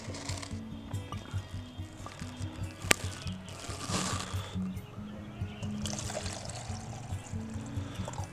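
Water is poured into a container to mix a fungicide for potting petunias, a soft trickling and splashing close by with faint pulsing rhythm, quiet and continuous apart from one sharp knock.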